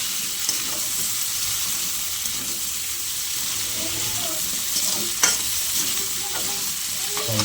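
Two small tomatoes fry in a hot pan with a constant sizzle, broken by clattering stirs and scrapes of a utensil and a faint background murmur.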